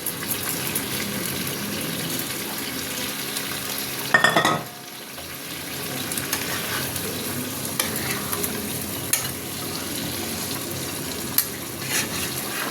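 Chicken cooking with peas in a kadai sizzles steadily, with a loud splash and gush as a little stock is poured in partway, followed by continued frying and stirring.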